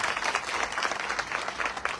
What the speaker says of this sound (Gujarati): આ ટીમને એકવાર જોરદાર તાળી